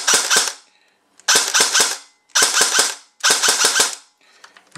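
A Dboys AKSU airsoft electric gun with a new high-torque motor fires semi-auto in four quick clusters of sharp, close snapping shots separated by short pauses, loud and with no talking.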